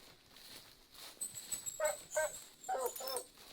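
Dog in the hunting game theHunter Classic, on the Timbergold Trails map, letting out several short, high whimpers and yips in quick bursts, fairly close, over quiet outdoor ambience with no talk.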